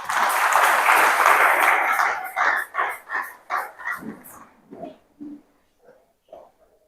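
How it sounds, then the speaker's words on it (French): A congregation at a church service breaks into loud applause and cheering, a full roar of clapping that thins after a couple of seconds into scattered claps and shouted voices before fading out. "Est-ce qu'on peut acclamer là-bas?"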